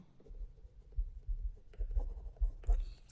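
Pen strokes scratch across paper while a maths equation is written out, producing soft, uneven scratching with a few firmer taps, quiet and close, with no talking.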